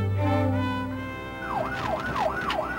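An ambulance siren wailing in New York City, a loud up-and-down wail repeating in quick cycles after a brief horn-like tone, close by with traffic around it.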